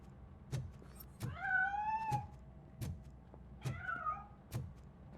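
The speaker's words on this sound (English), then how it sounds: "That cat must be hiding inside." A cat in the RoboCop: Rogue City game meows twice, each cry a drawn-out wavering call, separated by sharp knocks and thumps in a fairly quiet scene.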